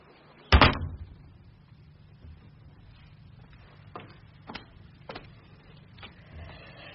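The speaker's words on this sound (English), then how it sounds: "She threw open a door as she spoke." A door thrown open with one sharp, loud bang, followed by a few faint clicks and knocks in a quiet room.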